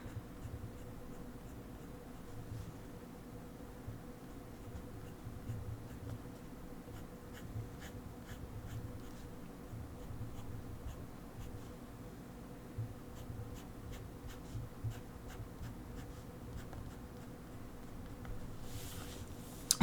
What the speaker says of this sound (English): I can't make the nice even hatching lines because the paper keeps bumping up every time I lift the pen off